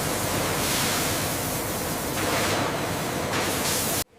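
Food-grade sanitizing mist sprays in a papaya factory, a loud continuous hiss that stays close and steady for several seconds and then cuts off abruptly, with no voices.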